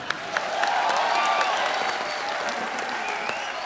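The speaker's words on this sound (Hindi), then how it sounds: "तो जोरदार तालियां।" An audience applauds steadily, a dense wash of many hands clapping at once, with a few faint cheers mixed in.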